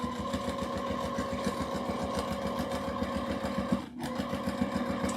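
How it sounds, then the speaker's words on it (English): A sewing machine set at stitch length 4 topstitches through several layers of a vinyl tote bag with a vinyl foot, running in a steady, close, continuous rapid whir with a brief pause near the end. "I'm going to top stitch through all those layers."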